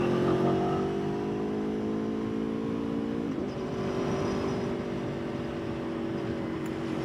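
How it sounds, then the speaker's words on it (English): Aprilia Tuono motorcycle engine while riding, a steady deep burbling drone with faint pitch shifts as the revs change, close and continuous under wind noise. "you just gotta love the sound of this Aprilia"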